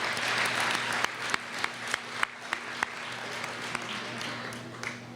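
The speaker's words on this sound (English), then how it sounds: "another round of applause for the dancers" At a scholarship benefit dinner at UC Santa Cruz, diners applaud the dancers with a moderate, steady patter and several loud nearby claps. A steady hum sits underneath and a voice is faintly present.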